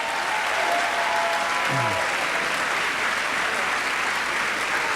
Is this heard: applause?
yes